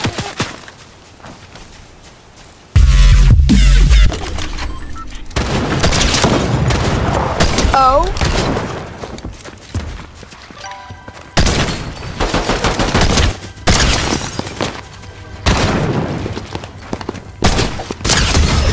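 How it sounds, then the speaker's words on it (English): Gunfire in a multiplayer shooter game, loud overlapping bursts and booms over several seconds with scattered single shots and a busy game mix, close and intense. "Please stop shooting me, bro."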